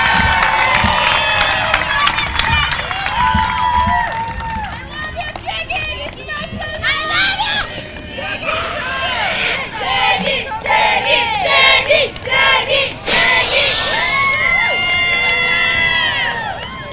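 A graduation crowd cheers and shouts for a senior class advisor, with loud whoops, excited voices and children yelling overlapping in bursts, fairly close and energetic throughout.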